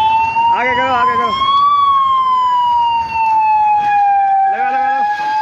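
A fire brigade truck arriving at a blaze at the old grain market in Gangapur City sounds a loud, steady wailing siren close by, with a horn-like honk blaring over it twice, and voices in the background.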